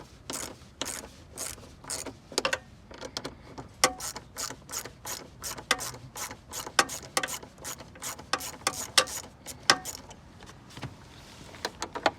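Ratchet loosening bolts on the air vent of a 2019/2020 Nissan Maxima, close sharp clicking in quick bursts with short pauses, repeating steadily throughout.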